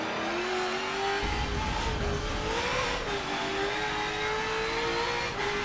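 Ford NASCAR race car engine in the Forza 7 racing game, a continuous loud roaring drone that rises and dips slightly in pitch as the car holds speed, with no voices over it.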